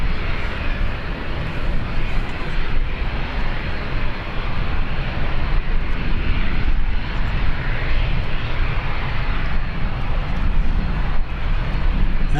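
Broad, steady jet roar as an aircraft departs Birmingham airport, loud and sustained the whole time with no voices.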